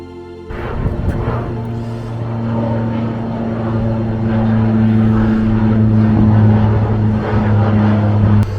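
A steady propeller engine drone with a low hum, growing slightly louder as an aircraft passes overhead.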